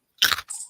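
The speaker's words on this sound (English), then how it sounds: "Put them in a bowl. It's not the point. They're noisy. Nobody wants to hear me munch." Pretzels being munched close to the mic: two quick crunchy bites in under a second, crisp and dry, with no talking.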